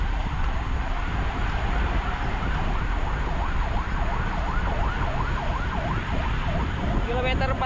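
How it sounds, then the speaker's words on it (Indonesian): An ambulance siren wails in a steady up-and-down pattern behind a peloton of cyclists on a road ride from Makassar to Bone. It sits under constant loud road and wind noise. "Kemudian ada juga ambulans di belakang."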